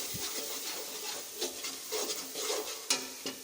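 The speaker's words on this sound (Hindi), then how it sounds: "मसाले को थोड़ी देर के लिए भून लेंगे।" Spices for a village-style aloo moongre dish sizzle and fry in a pan, with steady scraping as they're stirred and a few louder clatters of the spoon, close up.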